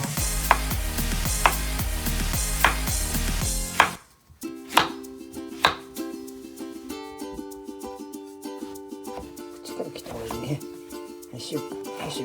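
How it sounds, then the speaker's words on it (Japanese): Zucchini being chopped on a cutting board for oxtail stew, a series of knife taps, first loud and regular over a low hum, then sparser thuds with steady tones behind. "Then chop zucchini too."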